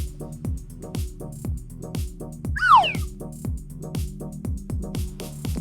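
A single cat meow sounds up close over a repetitive, pulsing electronic beat.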